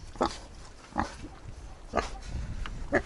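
A Vietnamese pot-bellied pig boar of well over 100 kg, about a year and a half old, grunts at a farm. Its short, regular grunts come close by, about one per second.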